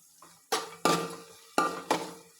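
Carrots, beans and capsicum being sautéed and stirred in a pan, heard as four sharp scraping clatters of a utensil against the pan, close by with a faint sizzle between the strokes.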